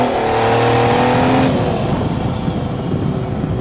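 A tuned BMW 330d diesel, stage 7.5 with about 470 hp, accelerates hard on gravel: a loud, steady engine roar with a rising tone that fades slightly after a gear change, close to the listener.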